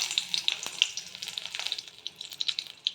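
Bori lentil dumplings fry in hot oil in a wok, giving a steady soft sizzle with small pops and crackles scattered throughout, close but fairly quiet, with no voices.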